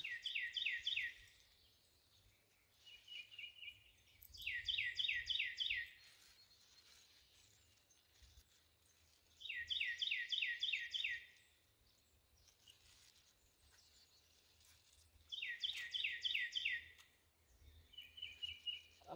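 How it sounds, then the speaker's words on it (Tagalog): Birds chirping in a garden vegetable patch, bursts of quick high trills repeating every few seconds over quiet low background noise, fairly faint and distant. "Naritinig niyo ba yung mga ibon?"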